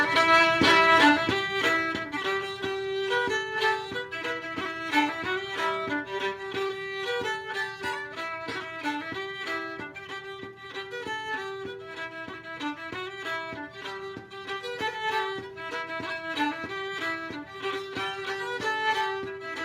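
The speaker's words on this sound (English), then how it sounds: "So I've just played the whole tune." A reel tune played solo on a melodic instrument, with brisk, evenly flowing notes in a steady dance rhythm, sustained and moderately loud throughout with no talking.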